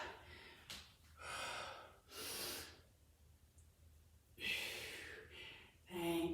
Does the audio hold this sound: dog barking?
no